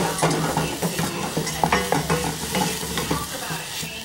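Textured vegetable protein sizzles steadily in a hot pan with no oil while a utensil scrapes and stirs with irregular clacks, close and continuous, with no talking.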